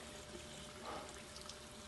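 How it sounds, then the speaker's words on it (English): Tap water runs in a steady, soft trickle and pour, close by and fairly quiet, with a slight swell near the middle and no voices. "Don't you just love running water?"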